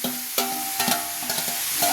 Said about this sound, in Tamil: தக்காளி போட்டு நல்லா வதக்கணும்.